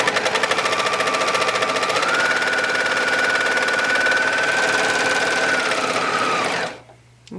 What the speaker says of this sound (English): once you've done a few stitches, you can let the knife cut this end off